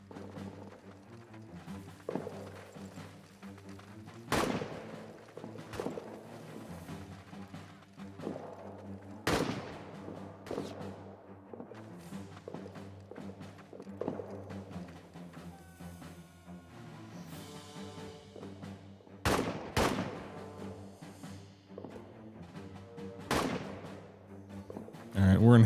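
Artillery booms in the World War I trench video game All Quiet in the Trenches, sharp loud blasts recurring every few seconds over a steady low rumble and background battle noise.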